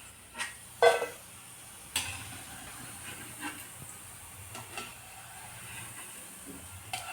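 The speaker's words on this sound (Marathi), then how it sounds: "हे बघा अशा प्रकारे आपण तळून घेऊयात" Shankarpali, sweet fried dough pieces made with milk, deep-frying in hot oil: a soft steady hiss and sizzle with scattered faint pops and crackles, quiet and close.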